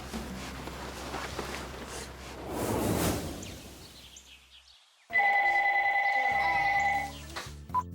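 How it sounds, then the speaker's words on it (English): A telephone rings in a household with a loud electronic trill lasting about two seconds after a brief whoosh, with no talking over it. "Later on, Jen got a phone call from Bryce"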